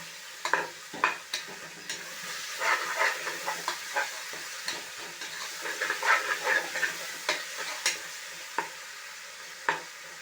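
Masala sautés in a pan for ponni rice mutton biryani, a soft continuous sizzle broken by repeated scraping stir strokes at an uneven pace, close and moderately loud.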